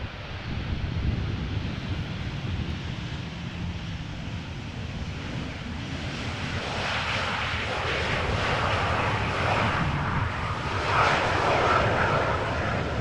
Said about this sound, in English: Transavia flight 6224 arriving from Malaga is this.